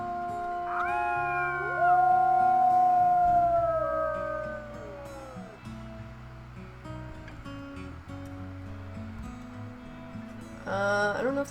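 A wolf howls in the video game WolfQuest: Dragon Pack, a long rising then falling tone joined by other overlapping wolf voices, loud and close, fading into quieter ambience before a brief burst of sound near the end.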